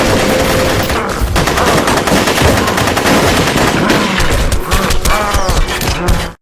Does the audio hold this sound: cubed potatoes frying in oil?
no